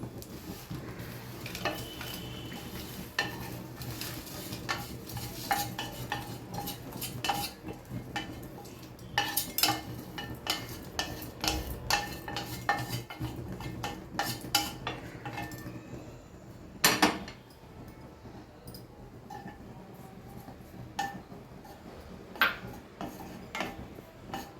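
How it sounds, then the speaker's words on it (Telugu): Dry ginger being dry-roasted in a pan, stirred steadily so the spoon scrapes and clinks against the metal in a continuous busy rattle with a faint sizzle, close up and without talk. "ఇది తీసేసి పక్కన పెట్టి దీనిలోనే కొంచెం సొంటిని వేయించేసి"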